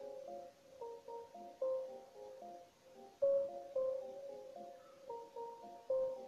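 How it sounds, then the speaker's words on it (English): Amapiano synth melody from a digital synth patch in FL Studio Mobile, a smooth looping line of sustained tonal notes over soft chords, moderately loud and alone without any voices. "my first melody sounds like this"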